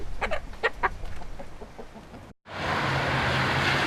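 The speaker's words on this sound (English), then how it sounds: "And her beloved chickens." Chickens clucking close by in a quick series of short calls, followed by an abrupt cut to a steady hum of engine or traffic noise.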